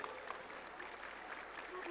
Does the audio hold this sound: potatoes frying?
no